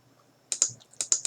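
A computer mouse gives crisp double-clicks, two quick pairs of sharp taps heard close up in a quiet room.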